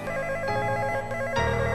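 A telephone rings loudly in a home drama scene, a continuous electronic ringing tone that changes pattern partway through, with no voices over it.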